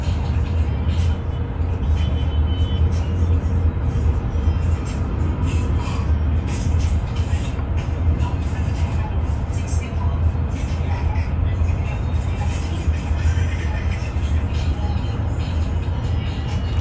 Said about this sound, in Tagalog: May traffic ngayon.